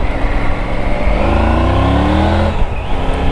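A 2020 Triumph Tiger 900 Rally Pro motorcycle accelerates hard through a long first gear, its engine note rising steadily and loud up close, then easing off near the end.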